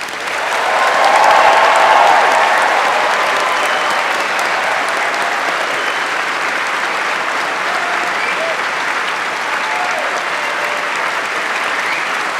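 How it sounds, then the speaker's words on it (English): A large graduation ceremony audience gives a final round of applause, a dense, steady roar of clapping that swells early and holds loud and even throughout, with no speech over it. "I'd like to ask you all to offer a final round of applause to recognize your achievements"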